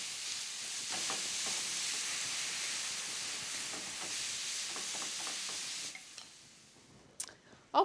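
Ground hamburger meat fries in a hot pan with a steady, loud hiss and sizzle while a utensil stirs and scrapes it now and then. The sizzle runs throughout and quiets near the end, with a few clanks.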